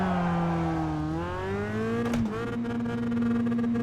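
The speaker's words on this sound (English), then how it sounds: "try just lifting the throttle a little bit and see if it'll go down into second gear" A race car engine in iRacing drones steadily, drops in pitch as the throttle lifts, then climbs again after a brief rattling clunk of the gearbox, loud and close with no talking.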